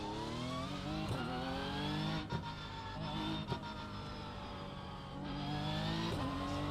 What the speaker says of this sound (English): I can also hear the engine, which is good for a change.